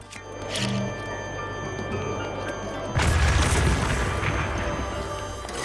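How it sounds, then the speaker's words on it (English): In Zelda: Breath of the Wild, a bomb blows open a bombable wall. A quiet ambient hum with a faint tick comes first, then a deep, muffled boom bursts out and lingers into a low rumble. "Well, let's bomb this wall."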